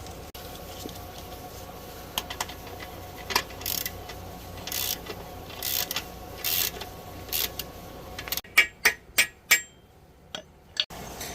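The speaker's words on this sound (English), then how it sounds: "we're just going to loosen up this bolt right here" Loosening a bolt on a 1992 Suzuki Katana 750F motorcycle: scattered metallic tool clicks and taps in a workshop, ending in a run of sharper, louder ratchet-like clacks.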